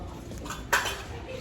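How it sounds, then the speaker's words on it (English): A metal pizza pan being handled in a store, one sharp metallic clank standing out over faint background noise. "Pizza pans."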